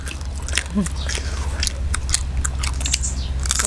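Close, loud crunchy biting and chewing of deep-fried insects eaten with som tam, rapid crisp crackles over a low rumble, with a brief murmur of voice.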